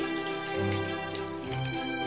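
Water pours steadily from a tap-like source onto eyelashes being watered like plants in a makeover skit, a continuous splashing flow with a soft tonal hum beneath, alone without talk.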